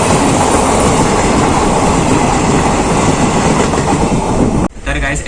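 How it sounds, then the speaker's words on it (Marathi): A train passing from the opposite direction, heard from aboard the Tutari Express halted at a level crossing, roars loudly and steadily with rumbling wheels, then cuts off abruptly near the end, leaving quieter background noise. "तर समोरून बघा कोणती तरी ट्रेन येते"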